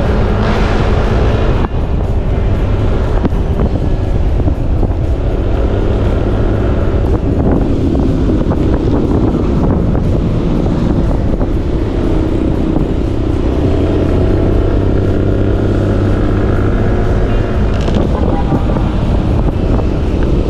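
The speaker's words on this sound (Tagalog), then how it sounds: "Malamig ang simoy ng hangin." A cool breeze buffeting the microphone in a constant loud roar while riding slowly, with rumble like a passing vehicle mixed in throughout, no talking.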